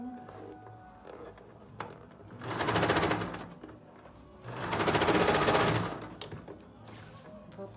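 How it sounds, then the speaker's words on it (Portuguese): A sewing machine stitches a child's jacket in two steady bursts of rapid mechanical whirring, each lasting about two seconds, with quiet handling noises between them and no talk. "Vou passar uma costurinha do mesmo jeito que eu fiz do outro lado"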